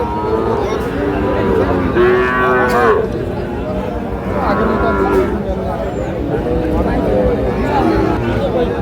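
Sahiwal bull calves, around five to six months old, low loudly and repeatedly at a crowded cattle market, their moos rising over a constant babble of buyers and sellers talking nearby.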